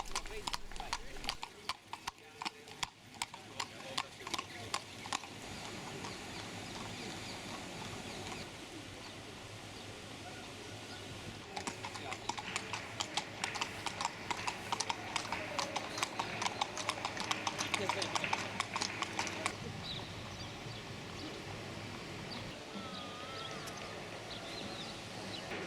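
Horse hooves clip-clop steadily on a plaza street along a horse-drawn carriage route, a rhythmic clatter heard at moderate distance amid outdoor ambience with birds and background voices.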